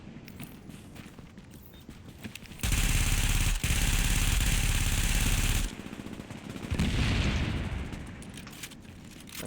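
Sustained bursts of light machine gun fire from a Striker LMG build in the shooter game The Division, a loud three-second stream of rapid shots, then a shorter burst after a pause.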